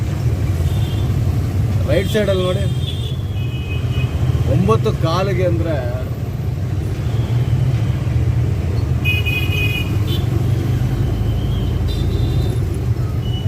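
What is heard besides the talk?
morning road traffic with cars and horns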